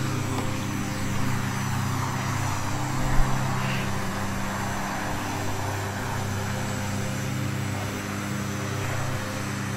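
Steady drone of the turboprop engines and propellers on a Flybe Q400 in the FSX flight simulator, a loud, sustained hum with a low tonal throb that continues unbroken and has no talk over it.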